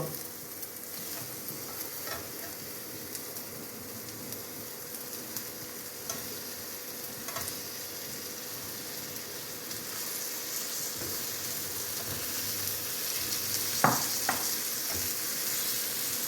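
Boiled potatoes are stirred into a spice mix frying in a pan: a constant close sizzle with periodic scraping strokes of a spoon and a couple of sharper knocks late on.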